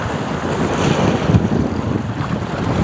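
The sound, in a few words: strong waves at baywall after monsoon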